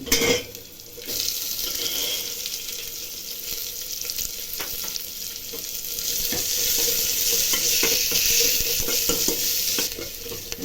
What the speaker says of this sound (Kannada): ಈರುಳ್ಳಿ ಬೆಳ್ಳುಳ್ಳಿ ಎಲ್ಲ ಚೆನ್ನಾಗಿ ಫ್ರೈ ಆಗುತ್ತೆ